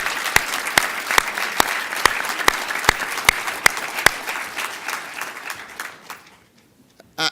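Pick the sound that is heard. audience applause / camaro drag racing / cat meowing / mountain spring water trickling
audience applause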